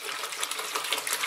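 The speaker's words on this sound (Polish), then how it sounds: "Wlewamy sobie wodę" Aquarium water poured from a 5-litre jug into a container, a close, bright continuous splashing gush with fluctuating burbles, with no talk over it.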